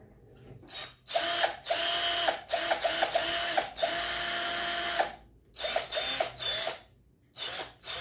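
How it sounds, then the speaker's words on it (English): A Deko 20V cordless drill whirs in several short bursts and one longer run, motor pitch rising and falling between brief pauses, close and loud with no talking. "So that's the drill."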